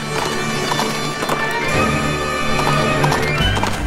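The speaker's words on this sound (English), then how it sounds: "So let's get on the horse and" Rapid clip-clop of galloping hooves with repeated horse whinnies over a busy soundtrack in the game Princess Peach Showtime, close and loud.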